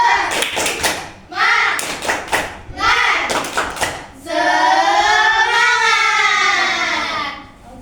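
A class claps together in a quick rhythmic spirit-clap pattern, several short bursts of clapping followed by loud children's voices shouting in unison.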